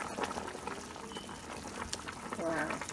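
Yam porridge with goat tripe simmering in a pot, a close, continuous bubbling and gurgling of boiling liquid, with a person talking over it.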